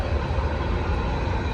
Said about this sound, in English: I hope y'all can hear me over the train.